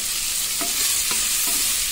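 Ginger garlic paste with onions sautéing in a pan, a loud, steady hissing sizzle with three brief stirring knocks of a spoon.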